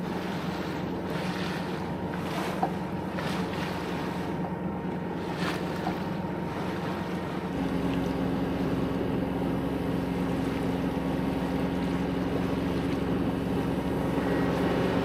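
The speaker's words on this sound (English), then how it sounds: "Tons and tons of small ferry boat traffic. I counted like 13 boats zipping in all directions earlier." Small ferry boats zip past near Gili Air, Lombok, their outboard engines droning steadily over wind and lapping water, one motor growing louder and closer midway and holding a steady hum.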